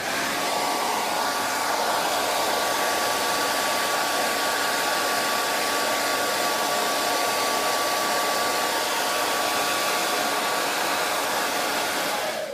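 A hair dryer fitted with a diffuser runs steadily from start to finish, a loud, constant airy whoosh with a faint motor whine underneath.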